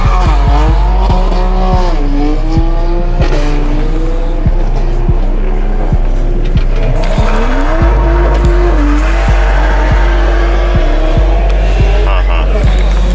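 A loud, revving turbocharged car engine roars continuously while drifting, pitch sweeping up and down as it accelerates, with tyres squealing in bursts close by.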